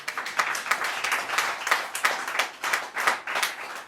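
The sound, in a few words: congregation clapping and cheering at a church service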